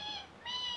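A person imitates a hungry kitten's meow, two high, drawn-out mewing calls in quick succession, close and clear with no other talk.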